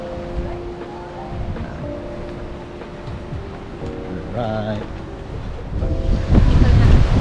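Steady wind rushes and buffets the microphone at Jaffa Port in Israel, with sea surf in the background, growing louder and gustier toward the end; a voice speaks briefly.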